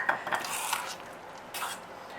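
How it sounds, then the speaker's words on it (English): Faint scraping of a utensil against a mixing bowl as sour cream is gently stirred into banana cake batter, a few soft clinks and swishes close by with no talking. "we're just going to give it a light little stir just to mix it through a little bit"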